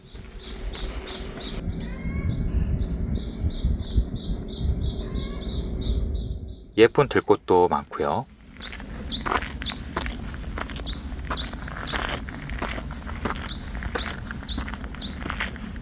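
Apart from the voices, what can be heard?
birdsong in forest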